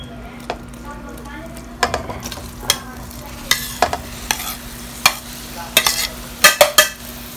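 Rice is stirred into sticky sugar syrup for shahi jorda, a spoon scraping and clattering against the pot in irregular close knocks over a quiet sizzle, with a steady low hum throughout.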